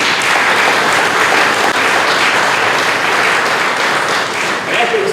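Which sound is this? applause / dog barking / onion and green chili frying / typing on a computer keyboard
applause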